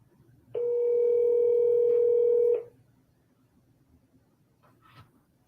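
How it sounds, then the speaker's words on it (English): A telephone plays a steady dial tone for about two seconds, followed later by a few brief keypad tones as a number is redialed, all fairly quiet against a soft background hum. "Let's give him the old triple dial."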